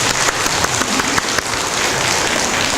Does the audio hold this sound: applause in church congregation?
yes